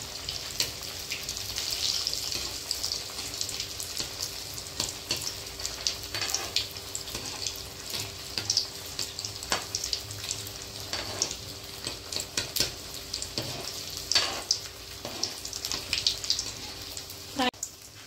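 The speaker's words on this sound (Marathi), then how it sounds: "आता हे मी डीप फ्राय करणार आहे। कढईमध्ये तेल गरम झाले आहे। त्यात आता आपण चीज बॉल फ्राय करून घेऊ।" Cheese balls deep fry in hot oil in a kadai over a medium flame, a steady bubbling sizzle with scattered sharp crackles and a few clinks, moderately loud and close.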